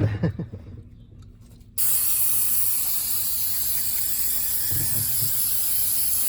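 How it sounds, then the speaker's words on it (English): Flammable brake cleaner is sprayed onto a Detroit Diesel 6-71 engine. A few faint knocks come first, then a sudden loud, steady aerosol hiss starts and holds close up to the end, with faint clatter underneath. "I only buy flammable brake cleaner."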